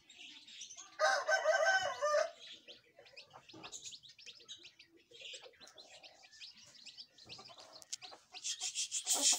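Aseel chickens and a rooster at a farmyard: a loud crow near the start, then scattered clucks and chirpy calls close by, with another burst of calls at the end; no talking.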